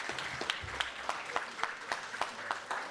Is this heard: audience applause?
yes